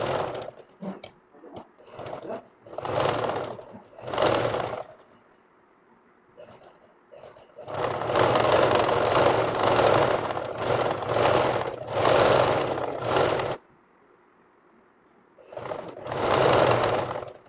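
An electric sewing machine stitches pleats on a pyjama in several loud, close bursts of rapid whirring, separated by quiet pauses, some runs short and others lasting several seconds.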